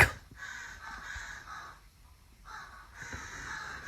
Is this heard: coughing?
no